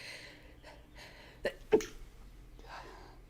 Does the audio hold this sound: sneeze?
yes